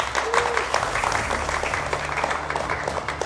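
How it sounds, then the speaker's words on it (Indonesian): University student audience clapping in a television talk show studio, dense continuous applause filling the space at an even level, with a low background hum underneath. "Luar biasa tepuk tangan."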